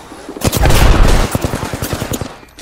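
Rapid automatic gunfire in the video game Apex Legends, a loud close burst of quick cracking shots that tapers into spaced single reports, no speech.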